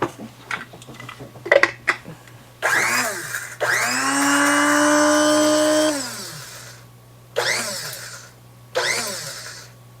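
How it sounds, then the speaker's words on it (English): A coffee grinder whirs through dried garden basil leaves in several bursts: short pulses, one long steady high-pitched run of a few seconds, then two brief spins, loud and close with faint clatter between. "I think it's going to be easier to use my coffee grinder to do the leaves"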